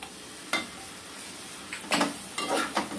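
Ginger-garlic paste and garam masala paste fry in a pot for mutton curry, a quiet low sizzle broken by a few short scraping stirs near the end.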